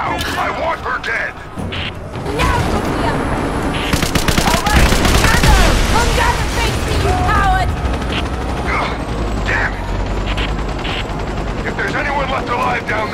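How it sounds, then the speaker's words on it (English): Rapid machine-gun fire and scattered gunshots from a Rise of the Tomb Raider firefight pound on without a break, with crashes and mechanical clatter mixed in and voices talking over the noise. "Get ready to fire another shot."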